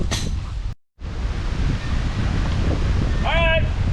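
Outdoor wind buffeting a microphone during a 1972 Buick Skylark 455 big block engine teardown, a loud continuous low rumble with one brief dropout, and a voice heard briefly near the end.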